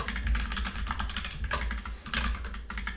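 Code being typed on a computer keyboard, a close, steady run of quick key clicks with short uneven pauses and no voices.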